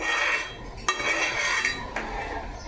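A spoon stirs dal in a metal pot, with a steady scraping swirl and two sharp clinks against the rim, close and without voices.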